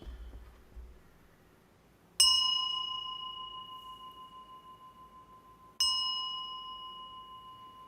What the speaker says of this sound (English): Very nice, beautiful bell.